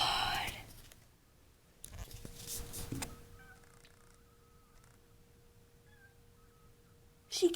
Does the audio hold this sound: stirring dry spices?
no